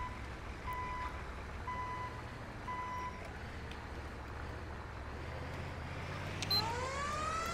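Truck reversing beeps from a GMC TopKick C450 ambulance in GTA 5, a steady repeating series of tones over a low engine rumble in heavy traffic, with a brief siren-like sweep rising near the end.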